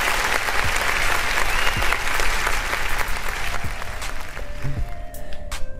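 Sustained applause from a crowd, steady clapping throughout, fairly loud and continuous with no talking over it.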